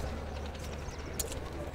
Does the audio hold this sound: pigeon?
yes